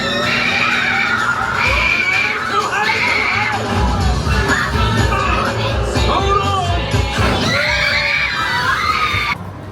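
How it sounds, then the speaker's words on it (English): Children at Disney California Adventure scream at full volume on purpose, a dense, sustained wall of high shrieks and crowd noise with repeated piercing peaks lasting throughout. "we have never heard kids scream so loud, purposely so loud"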